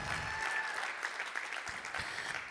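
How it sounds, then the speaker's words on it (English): An audience claps hands at a church service, a brief, steady burst of clapping with a faint tonal ring above it. "Clap your hands if you're learning something."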